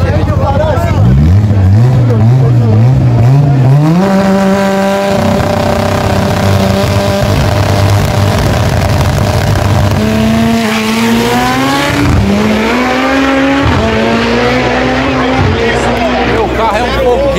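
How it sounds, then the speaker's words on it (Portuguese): A fast car accelerates past at speed, its engine note climbing through the gears and then dropping as it goes by, with crowd chatter underneath throughout. "o carro é muito rápido"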